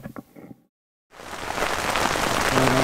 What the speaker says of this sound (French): Ça, c'est pas de la pluie. À mon avis, c'est de la neige fondue.